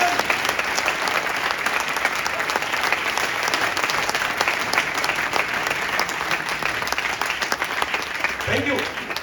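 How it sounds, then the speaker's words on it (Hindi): Seminar audience at an RCM business meeting breaks into loud, sustained applause, dense clapping filling the room steadily for several seconds, with faint voices near the end. "एक बार तालियां बजा दीजिए जोरदार"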